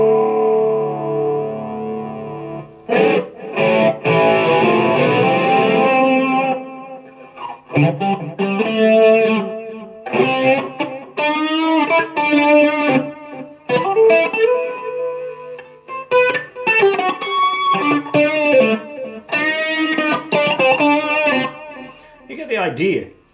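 Electric guitar run through a Marshall CODE amplifier with heavy distortion and effects, thick and saturated with chorus and echo, played in loud bursts and phrases with brief gaps.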